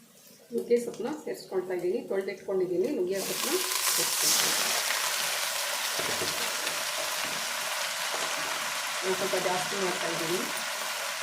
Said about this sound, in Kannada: ಈಗ ಈರುಳ್ಳಿ ಎಲ್ಲ ಫ್ರೈ ಆಗಿದೆ